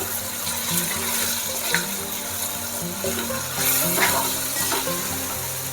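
Soya chunks tipped into a pan of softened tomatoes, frying with a steady close sizzle and occasional stirring scrapes throughout, no talking.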